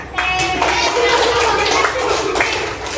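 Children in a classroom clap their hands together, a close, lively patter of uneven claps mixed with young voices speaking and chanting over it.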